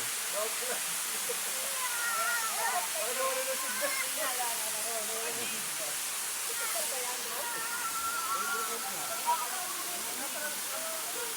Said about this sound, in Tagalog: Ang falls.